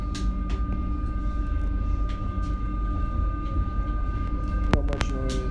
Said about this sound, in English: I'm lucky this train isn't packed